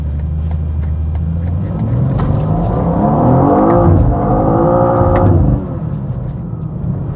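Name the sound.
BMW M2 Coupe G87 accelerating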